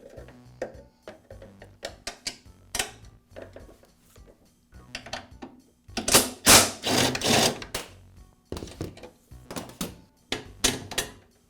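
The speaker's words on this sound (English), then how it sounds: "I'll use a wrench on the inside of the deck to hold the nut." Metal clicks and ratcheting taps from a wrench turning a bolt while holding the nut on the inside of a Toro lawn mower deck, close and irregular, with brief bursts of rapid clicking and pauses between.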